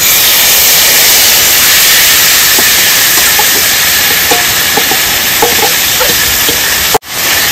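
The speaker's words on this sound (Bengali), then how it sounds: "এবার দিয়ে দেবো ম্যারিনেট করে রাখা মাছটা।" Marinated rohu fish hitting hot mustard oil seasoned with whole cumin in a kadai, a loud, dense, continuous sizzle with faint crackles, cutting off abruptly near the end.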